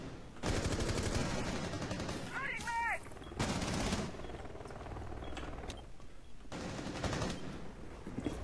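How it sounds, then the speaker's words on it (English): Automatic gunfire from Mira and Twitch in a Rainbow Six Siege match on the Bank map, sustained loud bursts separated by short pauses, with a brief chirping effect between volleys. "Shots coming out from both the Mira and the Twitch at the same time"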